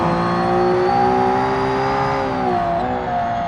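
Widowmaker GT custom-built car engine in BeamNG: a loud, sustained high-pitched rev with steady harmonic whine, holding pitch then dropping briefly as if shifting gear near the end.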